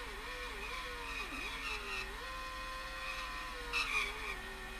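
Race car engine in the Amiga game World Circuit, a steady synthesized engine whine that wavers and dips in pitch through a corner taken flat out, then holds a sustained drone with faint tire squeal, no talk.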